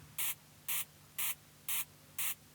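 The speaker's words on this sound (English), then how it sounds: "Sounds like a kind of spray can, aerosol spray can, doesn't it?" A synth drum patch in Ableton Live gives five evenly spaced hissing bursts, each a short sharp spray like an aerosol can, repeating in a steady rhythm over a faint low hum.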